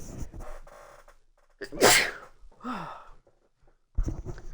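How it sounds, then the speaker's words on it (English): A single loud sneeze, close by, preceded by a sharp inhale, with quiet breathing and a brief voice sound after. "Sorry, I had to sneeze there."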